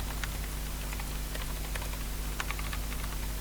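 Typing on a computer keyboard while writing a beginner Python program, scattered light key clicks at an even, moderate pace over a steady low hum and faint background hiss.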